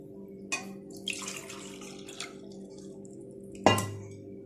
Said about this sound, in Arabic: هحط عليهم كوبايه ونص من الميه